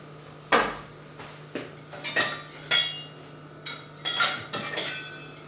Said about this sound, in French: Donc on vient hacher l'ail.